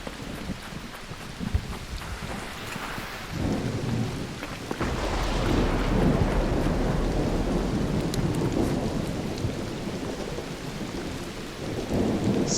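Thunderstorm in the video game ARC Raiders: steady rain hisses throughout while low thunder rumbles build and swell from the middle onward, loud and broad with no talking.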